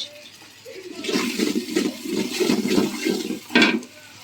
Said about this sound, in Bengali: এবার চাল ডালটা ধোয়া ছিল সেটা দিয়ে দেবো